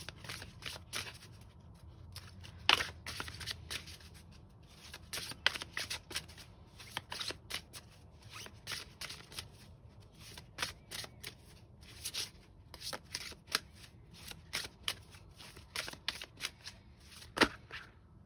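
Tarot and oracle cards being shuffled by hand, a run of crisp riffling and slapping bursts that come and go in an uneven rhythm. The sound is close and fairly quiet, and no one speaks.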